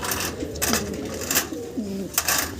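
Blue bar pigeons in a cage give soft, repeated throaty coos, a few rolling calls close by over faint background noise.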